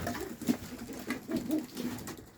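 Pigeons from a Turkish loft of long-distance, high-endurance racing birds coo in soft repeated throaty pulses, a steady rolling murmur of several birds close by with no talking.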